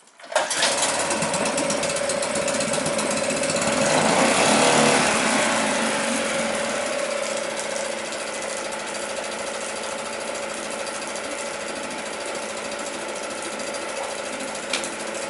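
An outboard motor on a SCAMP sailboat, run in forward gear before warming up, starts with a burst and settles into a steady, buzzing mid-pitched drone that swells slightly then holds evenly, close and alone.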